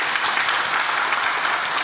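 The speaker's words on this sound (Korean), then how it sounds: "우리 박수로 환영하도록 하겠습니다." Congregation applause at a Korean Sunday church service welcoming people, a dense, even clapping from many hands that stays steady and loud for a couple of seconds.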